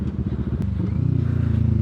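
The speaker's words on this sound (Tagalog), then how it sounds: "Nakakatuwa pakinggan ang ang tunog ng muffler." A 2020 CFMoto 400NK motorcycle's exhaust muffler rumbles up close in a steady, throaty drone that swells slightly as the engine settles into a deeper, even note, loud and continuous with no talk.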